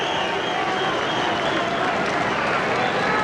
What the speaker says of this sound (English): Hernandez going around, getting a round of applause from the fans